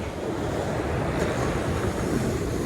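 Surf washing steadily onto the shore at Myrtle Beach, a continuous broadband roar with wind rumble on the microphone, no voices.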